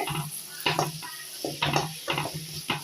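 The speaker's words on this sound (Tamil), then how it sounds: "பூண்டு வந்து ஒன்று பாதியமாக தட்டி சேர்த்துக்கலாம் நல்லா இது எண்ணெயிலே வதங்கினாங்க" Crushed garlic sautéing in oil in a pan, with a steady faint sizzle under a run of loud, irregular scraping strokes from a spoon stirring, close and with no voices.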